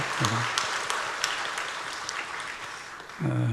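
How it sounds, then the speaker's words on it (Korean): A church congregation applauds in welcome during a worship service, with steady, moderately loud clapping throughout and brief bits of voice at the start and end. "네, 우리 박수로 격려하겠습니다."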